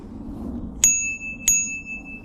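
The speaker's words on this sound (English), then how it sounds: "It's got the little bell." Two bright, clear dings from the small handlebar bell on a Windone S16 folding electric city bike, spaced about half a second apart, each ringing out briefly over a low background hum.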